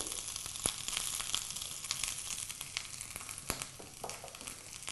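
Grated coconut frying in oil for a potato and amaranth leaf curry, a steady close sizzle with scattered crackles and pops running throughout, no voices.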